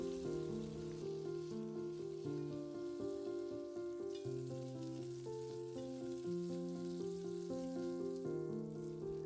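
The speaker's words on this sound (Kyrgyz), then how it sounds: "май ысыганда этти салып, алгач этти кууруп алабыз" Meat fries in hot vegetable oil in a kazan, giving a constant soft crackling sizzle like light rain, partly masked by a louder tune with a slow, stepping melody that plays over it throughout.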